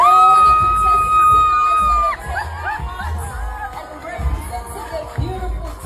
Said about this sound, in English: Please give a round of applause to all the